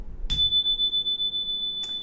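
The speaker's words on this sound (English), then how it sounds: "and ring my bell." A single bell struck once, ringing with a clear sustained pure tone that holds for well over a second, then struck again near the end, loud and close with no talk.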